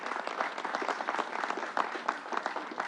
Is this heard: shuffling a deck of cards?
no